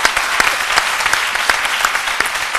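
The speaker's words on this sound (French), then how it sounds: "On l'applaudit très fort" Loud, dense studio audience applause for the chef on a midday television cooking show, continuous and even throughout with no talking.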